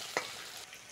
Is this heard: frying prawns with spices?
yes